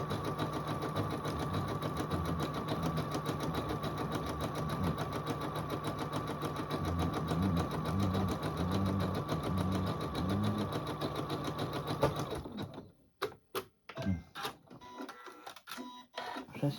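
A sewing machine runs steadily for about twelve seconds, binding the edges of a quilt with a dense, continuous mechanical whir, then stops, leaving only faint handling clicks and rustles.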